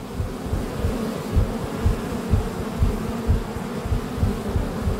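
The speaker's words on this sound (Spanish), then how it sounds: "Y las moscas de todos los cadáveres, de toda la gente" Flies buzz around corpses in the Jack Holmes video game. The buzzing drones steadily, with rhythmic pulses that swell and fade as the insects circle close by, with no talk over it.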